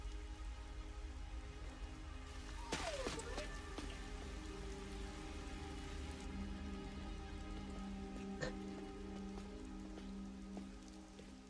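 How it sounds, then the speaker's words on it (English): Steady rain patters in the Rain Code video game, a soft continuous hiss of drops on surfaces under low game ambience, with a few brief tones and clicks. "It's raining."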